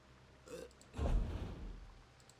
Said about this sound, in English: somebody's burping near me